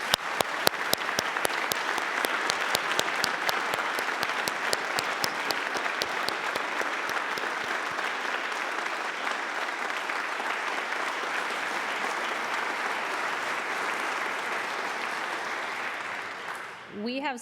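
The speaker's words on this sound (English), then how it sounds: "Please give all of the honorees joining us by video a round of applause." Sustained audience applause for honorees at a celebration event, dense clapping from a crowd that holds steady for about sixteen seconds before fading out, with a voice starting at the very end.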